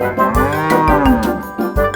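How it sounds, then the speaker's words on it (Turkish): A cow moos loudly and close, a long drawn-out low call with a couple of short grunts at the start and end. "Burada bir inek var."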